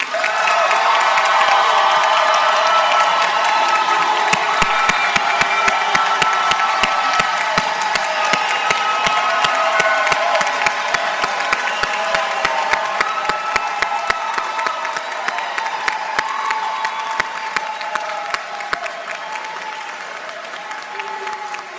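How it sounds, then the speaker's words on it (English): A large crowd applauds and cheers at a high school leadership academy graduation ceremony, sustained loud clapping with scattered whoops and shouts filling a big hall, gradually thinning toward the end. "Will the families and friends of these graduates please join me in another round of applause?"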